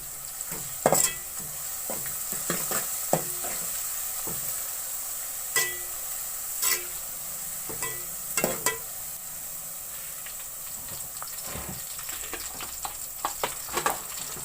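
Onions with garlic paste frying for kaleji (mutton liver masala), a steady sizzle under repeated scraping spoon strokes against the pan, close and unaccompanied by talk.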